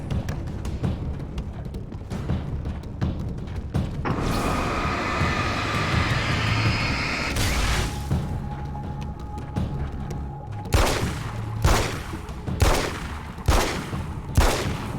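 A 9mm pistol fires in the video game Alan Wake American Nightmare; sharp, loud single shots ring out at irregular intervals over a rumbling game background, with the reports growing more frequent toward the end.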